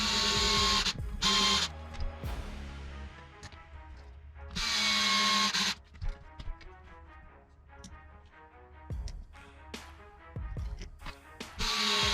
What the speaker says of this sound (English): Next, we're going to put the primary drive in, and that also goes in with 10mm screws.